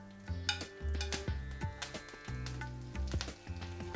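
Curry leaves with chana dal and urad dal tempered in hot oil for tamarind rice, giving close, quiet crackling and sizzling with intermittent stirring and utensil scrapes against the pan, and no talking.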